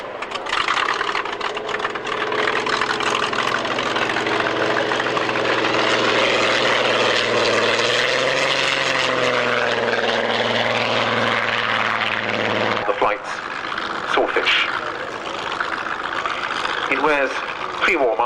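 Fairey Firefly and Fairey Swordfish propeller aircraft fly past in formation at an airshow, a loud sustained droning engine roar with shifting pitch that cuts off abruptly, followed by quieter background noise and a few brief voices.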